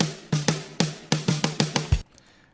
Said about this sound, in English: So now the drum kit sounds like this.